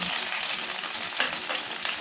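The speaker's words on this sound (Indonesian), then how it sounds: "Panaskan minyak, tumis bumbunya." Sliced shallots, garlic, bay leaves and lime leaves frying in hot oil for asem-asem daging, a loud, dense, continuous sizzle with crackle close by and no talking.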